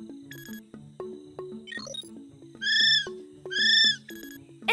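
A kiwi bird gives two loud, shrill, rising whistled calls in quick succession, set among light plinking musical tones in a children's animal guessing game.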